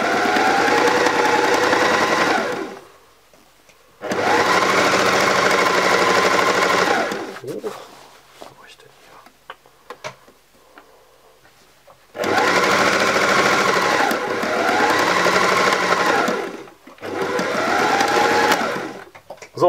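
A sewing machine stitches a drawstring storage bag for a hand puppet in loud, steady bursts separated by pauses for turning the fabric at a corner, with light handling noises in the gaps.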